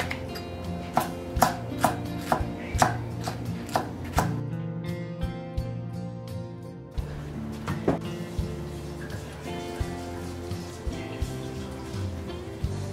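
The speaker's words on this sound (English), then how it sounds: "Cut 2 peppers." Two peppers being chopped with a knife on a cutting board, quick rhythmic knife strikes in bursts with a short pause partway, close and clear with no talking.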